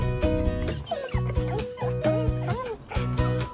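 Pit bull dogs yip and whimper in short, rising cries over steady background music, several brief calls spread through the stretch at moderate loudness.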